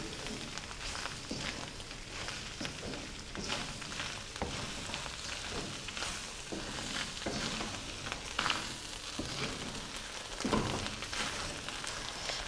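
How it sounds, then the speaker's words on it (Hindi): Chopped onions fry with minced meat in a karahi for qeema, giving a dense, even sizzle that runs throughout with a few brief stirring bumps and no talk. "प्याज को कीमे के साथ 1 मिनट तक भूनेंगे।"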